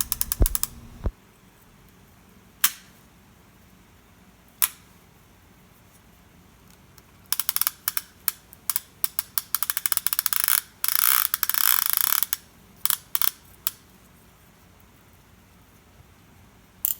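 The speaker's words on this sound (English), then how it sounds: "even though I very rarely use the clicker is still very positive and quite loud" A Daiwa Sealine fishing reel's clicker gives a few isolated clicks, then bursts of loud, rapid ratcheting as line pulls out, stopping and starting in close, dry rattling runs.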